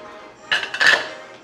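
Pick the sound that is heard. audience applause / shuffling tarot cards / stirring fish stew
stirring fish stew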